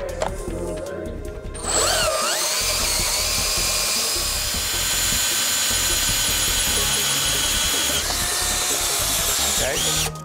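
A loud, continuous drilling whine from a Reed hot tapping machine boring through a pipe grinds on steadily after a brief start-up, with a slight pitch shift near the end as the bit cuts through.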